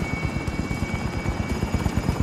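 Helicopter in the video game Call of Duty Warzone, a loud close rotor thumping in a fast steady rhythm over an engine whine, with no voices.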